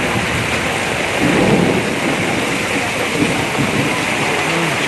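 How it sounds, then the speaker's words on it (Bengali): Heavy, steady rain roars close by throughout a Kalboishakhi storm, with low rumbles of thunder swelling in the middle and again near the end. "প্রচুর বৃষ্টি হচ্ছে।"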